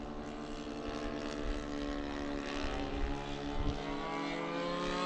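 A Hangar 9 Harvard RC model plane with an FS90 four-stroke engine flies overhead, its steady, loud droning hum running continuously with slight swells as it passes.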